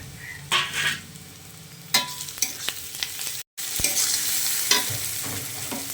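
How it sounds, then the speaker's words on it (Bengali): Tomatoes and chopped green chillies fry in hot oil with browned onions for a crab curry, a steady sizzle broken by stirring scrapes and a brief clunk of a spoon in the pan. "এবারে আমি দেব টমেটো আর কাঁচা লঙ্কা কুচি"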